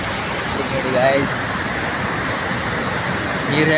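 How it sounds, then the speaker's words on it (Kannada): Floodwater rushing at full force near a bridge, a loud, continuous roar of flowing water filling the whole scene, with faint voices under it. "ನೀರು ಹೆಂಗೆ ಹೋಗ್ತಾ ಇದೆ. ಫುಲ್ ಫೋರ್ಸೆ ಬಂದ"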